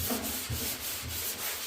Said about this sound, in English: I'm using 120 grit and it's getting kind of clogged up here because I've been using it for a while